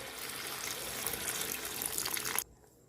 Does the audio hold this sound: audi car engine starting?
no